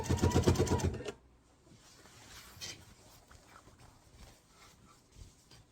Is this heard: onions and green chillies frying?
no